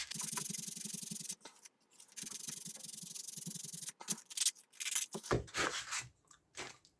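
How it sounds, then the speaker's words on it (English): A small tab is sanded by hand with 240 grade sandpaper, giving close, rhythmic rasping strokes in quick bursts with short pauses between them, later turning into more irregular rubbing and scraping, with no talking. "sand a little bit of the tab away, just a small amount, with 240 grade sanding paper until it just about fits"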